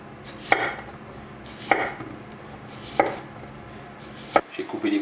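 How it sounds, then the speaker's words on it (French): Knife slicing courgettes into half-centimetre rounds on a cutting board: four sharp, evenly spaced chops about a second apart, close and clear over a quiet kitchen background, with a faint shuffle at the end. "On va couper des rondelles d'à peu près un demi-centimètre comme ça."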